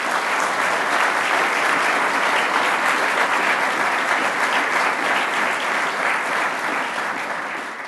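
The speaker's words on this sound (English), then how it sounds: "Please join me in giving her a round of applause." An audience at a public event claps in dense, steady applause that stays loud for several seconds before easing slightly at the end, with no talking over it.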